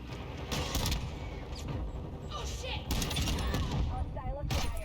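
Rapid bursts of MX Guardian gunfire in the video game MW2, loud repeated blasts in quick clusters, with a voice talking over parts of the action.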